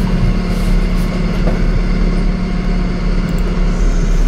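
A forklift engine running while unloading curb stones in the rain: a steady, loud, low droning hum with no breaks.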